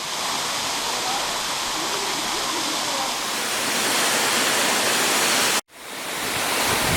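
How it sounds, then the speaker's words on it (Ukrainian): Manyava waterfall pours in a broad, steady roar of rushing water close by, filling the whole span with dense noise, interrupted by a brief dropout near the end before resuming. "Манявський водопад."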